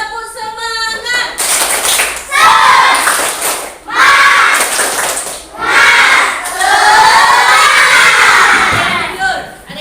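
Schoolchildren in a classroom repeating the 'tepuk semangat' clapping chant, loud patterned claps and shouted group chanting in several surging bursts, ending with a cheer.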